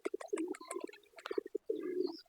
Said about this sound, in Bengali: এটা অবশ্য গিরিবাস কবুতর অরিজিনাল গিরিবাস